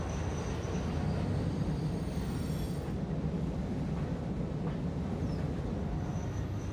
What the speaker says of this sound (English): So the train's gonna come in.